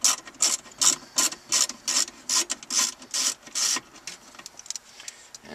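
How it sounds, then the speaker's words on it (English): A screwdriver backs a screw out of the stereo bracket in a Nissan Frontier: a run of about a dozen rhythmic scraping ratchet-like turns, close and crisp, thinning into lighter ticks. "I'm going to remove that screw"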